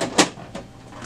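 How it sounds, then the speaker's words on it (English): The front access door of an HP Deskjet 2652 printer is shut, a sharp close click followed by two softer plastic knocks. "and then just close the door"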